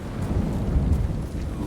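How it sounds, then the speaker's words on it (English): A low, continuous rumble of video game thunder in Ghost of Tsushima rolls on for a couple of seconds, deep and steady, with faint rain-like hiss above it and no voices. "Ooh, we have some thunder."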